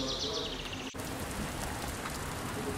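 Steady, soft rain, a continuous hiss of falling drops with a brief dip near the start and faint chirps in the background.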